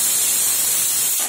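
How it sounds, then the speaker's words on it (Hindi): A pressure cooker cooking arhar dal lets off a loud, steady hiss of escaping steam, a sustained high whooshing blast close by that fades out at the end. "पहली सीटी आ चुकी है"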